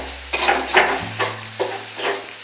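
Oreo fried rice is stirred in a hot pan, giving four or five sizzling scraping strokes in a loose rhythm, close up over a low hum, with no voices.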